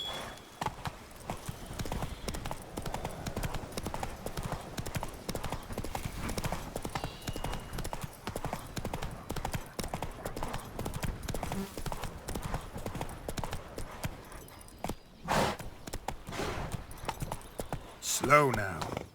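Horse hooves clip-clop steadily on the ground in The Witcher 3, a constant rhythmic trot with brief voice sounds near the end and a short whinny.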